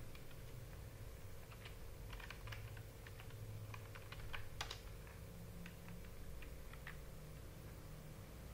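Fingers typing a traceroute command on a computer keyboard, bursts of quick soft key clicks at an uneven pace over a constant hum.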